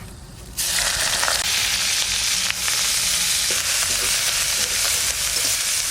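Onion paste hits hot oil tempered with garam masala, bursting into a loud, steady sizzle after a short quiet start and frying on continuously with faint stirring scrapes.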